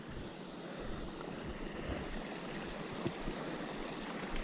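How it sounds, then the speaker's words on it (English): A small waterfall in the woods of New Mexico, a continuous broadband rush of falling water, steady and moderately close, with faint wind noise on the microphone and no voices. "And then is it a little waterfall over there?"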